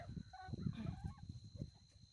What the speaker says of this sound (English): Look at those chickens. They're going nuts.